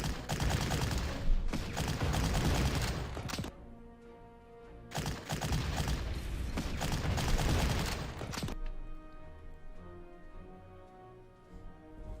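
Artillery fire in the World War II strategy game Panzer Corps lands in two loud, crackling bursts of rapid explosions, each lasting a few seconds, followed by a fading ringing tone.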